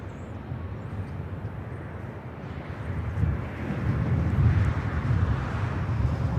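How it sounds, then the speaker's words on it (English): An Air France Boeing 777-300ER jet taking off from LAX produces a broad, distant rumble that gradually swells louder, heard alone with wind in the background. "It looks like Air France Flight 21 heading back to Paris, a 777-300ER heading up here for a north side at takeoff."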